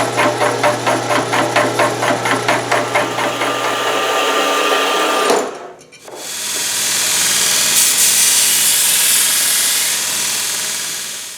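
A milling machine makes its final pass on a round metal column, cutting with a rapid rhythmic chatter that stops abruptly, then gives way to a loud steady hiss, close up.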